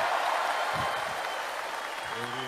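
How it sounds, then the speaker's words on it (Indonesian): A political rally crowd applauds in a dense, continuous wash, with a few voices and a brief shout rising above the clapping. "Tepuk tangannya kurang semangat."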